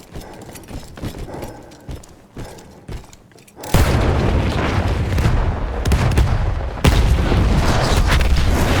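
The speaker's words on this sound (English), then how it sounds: "That explosion was one of the sweetest sights of the war for me." A heavy explosion erupts in a Battlefield 1 battle, a sudden loud boom that gives way to sustained roaring rumble and debris noise, with a second surge of blast noise shortly after, following scattered quieter combat sounds.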